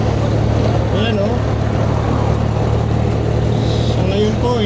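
A Mitsubishi L300 FB van engine drones steadily while driving, a constant low hum under road noise, with someone talking over it throughout.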